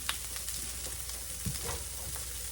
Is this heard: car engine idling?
no